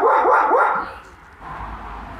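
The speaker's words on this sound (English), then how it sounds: "This was my neighbor's dog barking." A neighbor's dog barks about three times in quick succession, fairly close and clear, then the sound fades to quiet background.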